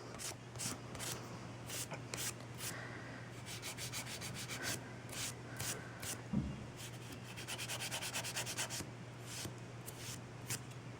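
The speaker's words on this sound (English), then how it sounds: "you're literally just filing and filing and filing" A nail file rasps rapidly back and forth against a fingernail, shaping it to a sharp point in a steady run of quiet, close scratching strokes with brief pauses.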